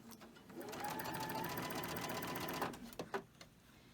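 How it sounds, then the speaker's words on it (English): A sewing machine stitching strips onto a summer-fabric quilt top: a steady close mechanical whir for about two and a half seconds, then it stops, followed by a few light clicks and knocks. "We're going to sew on the last 2 strips"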